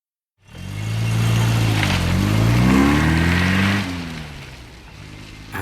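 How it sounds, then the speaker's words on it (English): Car driving off a train and onto a road after arriving at Calais: an engine starts up abruptly, then revs and climbs through rising tones before settling to a lower hum, loud and close, with no talking. "I drove my car off the train and onto the road"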